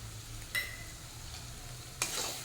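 Spices with salt, turmeric and a little chilli powder fry in a pan under a soft steady sizzle, with two sharp scraping stirs of a spoon against the pan.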